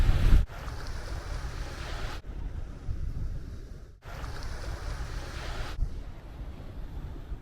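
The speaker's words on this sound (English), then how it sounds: "you can hear the wave noise from behind the camera is reduced" Ocean waves and gusting wind picked up by an action camera, a rough broadband rush that alternates between fuller and more muffled stretches as wind buffets the microphone, steady and moderately loud with no voices.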